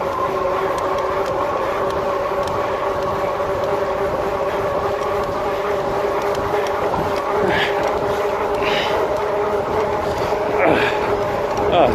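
A 2018 Rad Power RadMini electric fat-tire folding bike rides at about 25 mph, its motor whining in steady tones under loud, continuous wind rush, with a few brief clicks and rattles.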